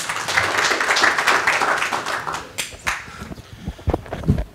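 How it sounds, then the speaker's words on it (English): An audience at a financial innovation summit claps for a panel of speakers, a busy patter of applause that fades after about three seconds into scattered claps and a few voices. "Please give them a round of applause."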